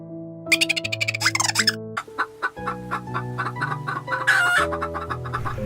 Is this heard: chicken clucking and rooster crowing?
yes